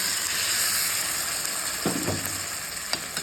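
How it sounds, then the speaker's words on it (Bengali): Water hits a hot pan of sautéed curry for aloo dum, setting off a loud, continuous sizzle and hiss with a few sharper splashes and stirring clicks near the end. "এবার জল দিয়ে দেবো"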